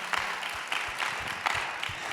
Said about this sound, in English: Can we give these people a round of applause?